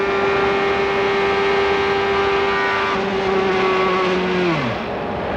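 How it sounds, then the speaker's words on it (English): Scott Pruitt's IndyCar engine at the 1996 U.S. 500 at Michigan International Speedway, a loud steady high-pitched racing whine under trackside roar that wavers, then sags and drops in pitch near the end as the engine tightens and fails. "The engine's getting tight. You can hear it just before you see the puff of smoke."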